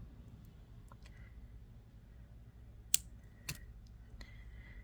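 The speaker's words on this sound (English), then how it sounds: "trim this extra little bit of wire off" Excess wire trimmed off after a bead on a handmade anklet, heard as two quiet, crisp snips of cutters close by over a near-silent background with a few faint clicks.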